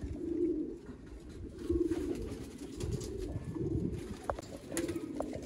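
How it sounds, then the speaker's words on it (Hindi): Flying-breed pigeons of a champion bloodline coo in low, rolling phrases, the calls repeating steadily at close range with no talk over them. "ये है जी कबूतर"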